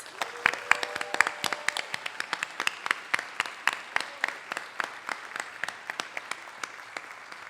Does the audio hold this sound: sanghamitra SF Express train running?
no